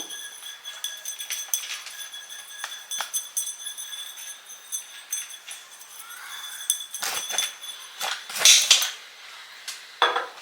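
Gold dust being stirred with a utensil into cake icing in a bowl for a pineapple cake, with repeated light clinks and scrapes against the bowl, sharper clatter near the end.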